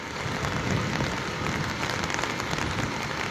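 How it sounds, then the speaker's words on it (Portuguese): Steady rain falling at night in central Cascavel, Brazil, near a radio transmission tower, a dense continuous hiss of drops on surfaces with no pauses or talking. "Tá chovendo nesse momento."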